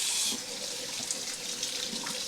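Carrots are washed under a running kitchen tap, a steady splashing rush of water into a sink, close and continuous with no speech.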